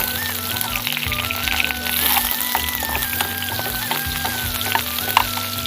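Chopped onion fries in oil in a home kitchen pan, crackling and sizzling steadily close by with small spatters, no voice over it.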